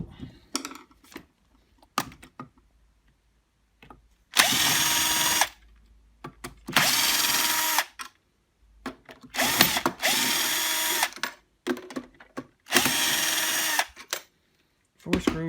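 A power drill drives screws into the motor of a Bosch Classixx 6 Varioperfect washing machine, with several loud whirring bursts of a few seconds each, separated by quiet gaps and small handling clicks.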